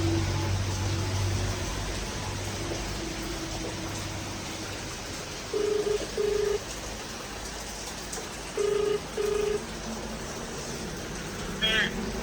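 A phone call is being placed: two short pairs of ringing tones sound over steady low background noise, then a brief electronic chirp near the end.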